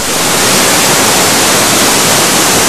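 Waterfall with fine mist and spray drifting around it, a steady, loud broadband rush of falling water that fills the whole clip without change and carries no voices.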